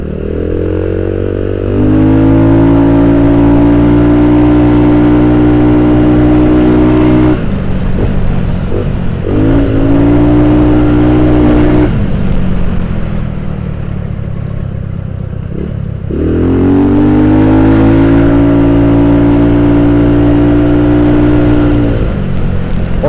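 A customized Yamaha Nouvo automatic scooter's engine whines loudly while riding, rising with throttle in two long surges and dropping back to a lower drone in between, with no talk.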